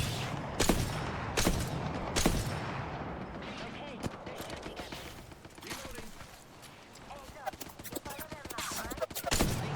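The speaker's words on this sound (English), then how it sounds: "Why are you shooting at me, bro?" Video game gunfire: sharp gunshots crack out in scattered bursts and single reports over a busy, noisy mix, some loud and close, others fainter, with a voice talking amid the shooting.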